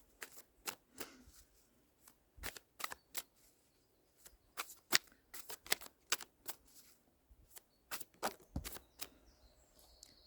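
Tarot cards being shuffled and pulled by hand, a series of quiet, crisp card snaps and riffles in irregular bursts, close up against a near-silent room with no talking.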